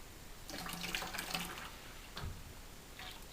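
Water runs into a container while fruit concentrate wine is being made, a soft, continuous trickling and splashing at fairly low volume with no voices.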